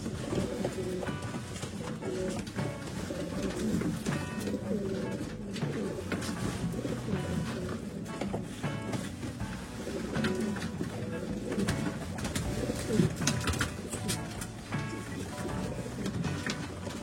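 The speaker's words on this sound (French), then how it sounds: "Les palombes se posent aux arbres juste en face de nous, mais vont ensuite descendre dans le champ." Wood pigeons coo repeatedly against a busy outdoor background at a wood pigeon hunt beside a field, with other birds calling and some faint French voices mixed in throughout.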